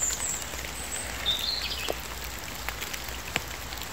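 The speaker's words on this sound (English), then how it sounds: "Pouring with rain this morning" Steady, dense hiss of heavy rainfall with scattered drop impacts, and a few faint bird chirps in the distance.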